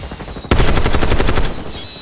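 Automatic gunfire in Call of Duty: Black Ops 6 erupts as a sudden, loud burst of rapid-fire shots lasting about a second, then drops back into steady background game ambience.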